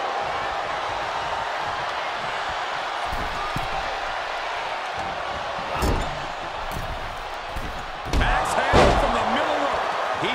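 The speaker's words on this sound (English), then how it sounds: "Neck breaker." A neckbreaker slam in a wrestling video game, heard as a sharp thud against a constant roaring arena crowd, followed by a few more impacts and a rising cheer, with commentators talking throughout.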